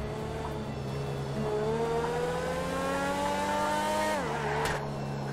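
A Devel Sixteen prototype supercar in GTA 5 accelerates on a Dubai road, its engine pitch climbing steadily through one long rev before a gear shift drops it, loud and close, with no talking.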